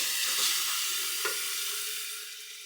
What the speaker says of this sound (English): And I'll fill the rest with water.